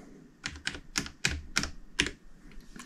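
Keys struck on a computer keyboard while entering a Wi-Fi password, about seven distinct, close, sharp clicks in an uneven rhythm, with no voices.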